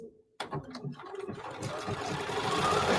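An embroidery machine stitches a small decorative motif, its rapid, steady mechanical needle chatter starting abruptly after a brief silence and running on continuously and fairly close.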